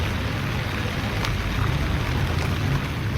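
Rain falls steadily over an outdoor Yoga Day session led by an NCC girls' battalion, a dense, even hiss of drops with no voices over it.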